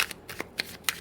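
Tarot cards are shuffled close up in quick, crisp riffling bursts of papery flicks, several in a second with no voices.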